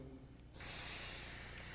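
A steady hiss of white spray paint from a can starts abruptly and continues, loud and close, filling the clip after a brief quieter moment at the start.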